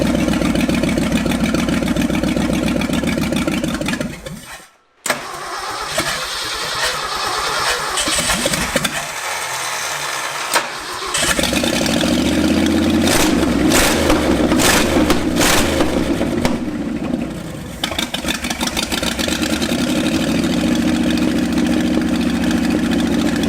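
An abandoned Ford F250 engine, on choke with a length of pipe jammed into the port at the back of the carburetor base, cranks, catches and runs loud and close. It cuts out briefly, then settles back into a rough, steady idle.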